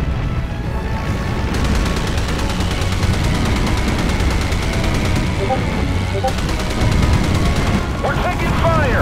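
Gunfire and rapid machine-gun bursts fill the naval air combat video game Battle Station Pacific, dense and continuous over engine rumble and explosions, with game voices speaking throughout.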